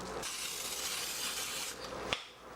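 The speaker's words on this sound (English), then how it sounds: "And that's parsley spray" A close spray bottle of parsley spray hisses in a steady burst for nearly two seconds, followed by a short click and a fainter puff.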